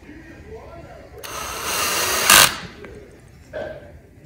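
Bursts of a power drill pre-drilling holes in a plastic tub, a loud peak in the middle, then a shorter burst after a pause; speech underneath.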